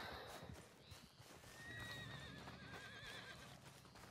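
In Red Dead Redemption 2 a horse whinnies in a long, wavering neigh while its hooves clop steadily against a quiet outdoor background.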